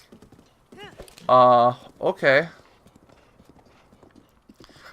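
Horse hooves clop steadily while a rider travels in the video game Zelda: Breath of the Wild. A brief burst of loud clopping sits among quiet game sounds, and a voice talks briefly over it.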